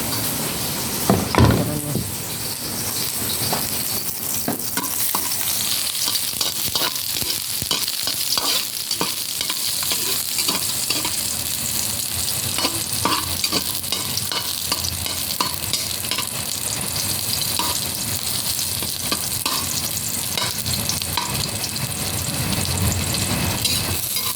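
Garlic frying in a pan with steady sizzling and the scrape of stirring throughout, close and continuous.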